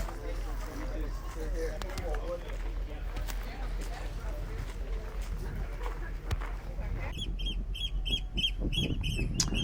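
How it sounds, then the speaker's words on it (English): An oystercatcher calling outdoors in Lofoten, Norway, a run of sharp, rapidly repeated piping notes that come in near the end over steady wind and ambient noise, with people talking underneath. "This is the Norwegian bird Kjeld, it's called in Norwegian."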